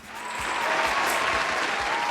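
Applause sound effect, a brief burst of dense clapping that quickly swells in and holds at a steady level.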